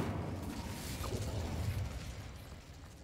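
Incendio fire spell cast in the video game Hogwarts Legacy, a low rumbling burst of flame with a soft whoosh that rolls on steadily for a few seconds.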